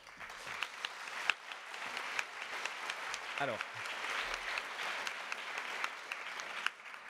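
Conference audience in a hall clapping steadily throughout, a continuous wash of applause with a voice briefly speaking over it partway through.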